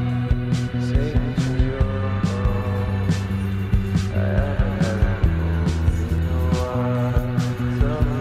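A car driving along city roads, with a steady engine hum and road noise throughout, plus some light bumps and thumps from inside the cabin.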